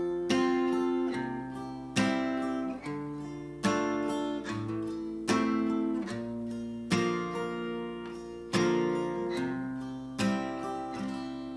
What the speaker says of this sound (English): And if you want, you can replace the first down strum with just a picking of the bass note.